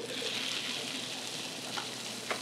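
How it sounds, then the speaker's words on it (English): Steady frying sizzle of cherry tomatoes in a hot pan, a continuous crackling hiss with a couple of brief sharper pops near the end. "Nice little sizzle."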